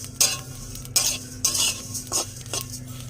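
A whole spice mix dry-roasting in a pan, stirred in repeated scraping, rustling strokes about every half second over a faint sizzle, close and loud with no speech.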